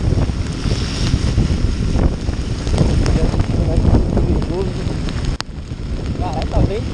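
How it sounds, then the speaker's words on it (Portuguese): Strong wind roars and buffets a close microphone during a heavy rainstorm, a steady rough rush with gusts, while someone speaks faintly beneath it. "tá ventando também"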